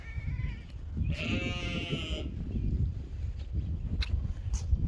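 Sheep on a farm at breakfast time give one clear, drawn-out wavering bleat close by, followed by fainter shuffling and farmyard background noise.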